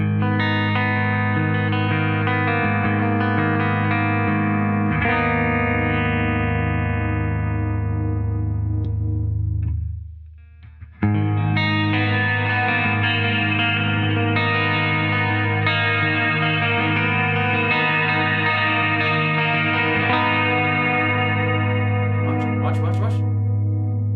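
Clean electric guitar chords ring out with a lush reverb tail that cuts off abruptly mid-clip, then resumes, sustained and full.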